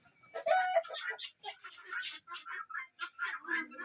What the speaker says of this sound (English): A chicken chased another chicken out of the coop.